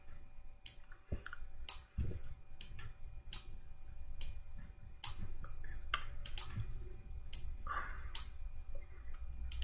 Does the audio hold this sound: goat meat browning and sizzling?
no